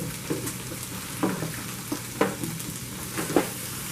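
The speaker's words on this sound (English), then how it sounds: "all we're doing is just sauteing these vegetables here" Vegetables for red beans sizzle steadily in a hot pan, with a few spoon scrapes and stirring clicks rising above the continuous frying hiss.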